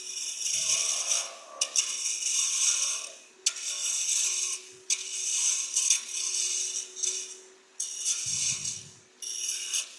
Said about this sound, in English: I'm going to grab that small roughing gouge and do some more peeling cuts there